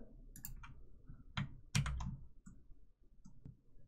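Soft, sharp clicks from a computer mouse come in short irregular bursts, quiet and close, with a few separate taps between them and nothing else going on.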